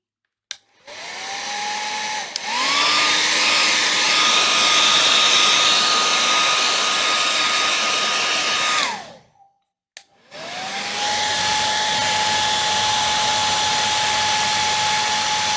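A hair dryer blows steadily over a wet watercolor beach painting, running loud and continuous for several seconds, cutting out briefly, then starting up again with a rising whine.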